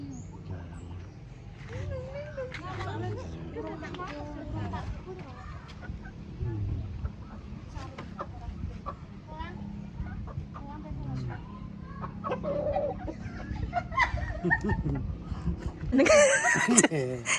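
Chickens cluck steadily in the background while people talk over them throughout, with a louder burst of noise near the end.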